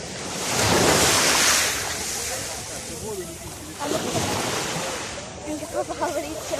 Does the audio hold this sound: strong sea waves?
yes